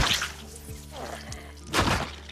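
Zombie knocked down and killed in the Project Zomboid video game, with a dull thud, a second impact and a louder crunching hit near the end, close and punchy over a low steady game hum.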